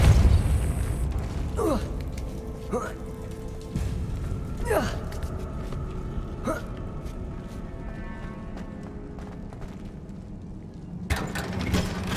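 Depulso spell blasts in Hogwarts Legacy, several sharp whooshing bursts with falling tails spaced a second or two apart, loud and close over a low rumbling background, with a final burst near the end.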